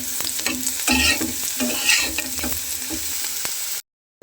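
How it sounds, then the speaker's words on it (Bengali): Water hits noodles and vegetables frying in a pan, raising a loud close sizzle broken by repeated clattering stirs, before the sound cuts to silence near the end. "কিছুটা পরিমাণ জল দিয়ে দিচ্ছি"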